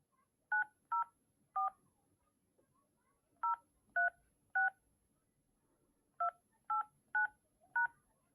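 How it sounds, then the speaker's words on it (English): Eleven telephone keypad DTMF beeps, each short and clean, come in three separate groups with pauses between them as a meeting PIN is keyed in, clear against an otherwise silent line. "Enter the meeting pin followed by the pound key."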